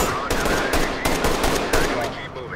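Rapid bursts of gunfire during a Densus 88 and Brimob anti-terror raid, shots fired from shooters in front, several sharp loud cracks in quick irregular succession over a noisy background.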